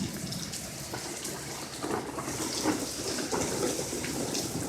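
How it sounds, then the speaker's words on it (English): Heavy rain falling steadily outdoors during a thunderstorm, a continuous broadband hiss of drops on surfaces with occasional louder spatters, fairly close and with no voices. "I don't even know why I'm just filming the rain."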